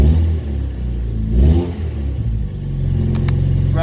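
Car engine being revved during a first drive after repairs, with the check engine light on: a loud, close rumbling idle that swells into a rev and settles again, with a light clatter near the end.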